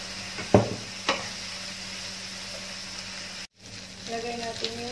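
Chopped ginger goes into a hot frying pan and is stirred, bringing a steady close sizzle with a few scraping stir sounds and a brief dropout, while someone speaks softly at times.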